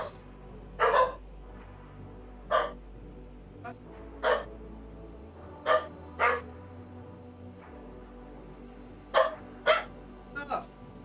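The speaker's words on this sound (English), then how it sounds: "It's next door, that's why they're barking." Dogs barking next door, heard indoors at a slight distance: repeated short barks and yips in small clusters spread across the stretch, over a low background hum.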